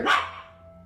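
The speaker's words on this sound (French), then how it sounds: "Confuse quant à ce qui faisait aboyer son chien" A dog gives a single sharp bark at the start, which quickly fades into a quiet room with a faint steady hum.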